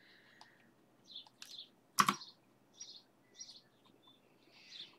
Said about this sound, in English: so you can hear the little chicks chirping away.